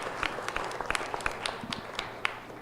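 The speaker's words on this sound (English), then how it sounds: "let us give a round of applause to distinguished panelists here" Audience applauding panelists, including Nobel laureates, at a national science summit on digitalization in Timor-Leste, a dense sustained clapping from a crowd.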